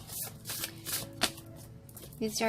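A deck of cards is shuffled with quick riffling flutters and a soft tap, moderately close and quiet, while a low voice and faint background sounds continue.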